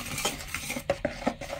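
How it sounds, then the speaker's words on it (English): A spoon clinks against a bowl while stirring a rose candle mixture, giving a handful of sharp metallic taps and scrapes close by, with no talking. "Do you want me to give it one big stir for you?"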